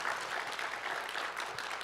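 A church congregation at a Sunday evening service gives a brief, dense burst of clapping, steady and moderately distant throughout.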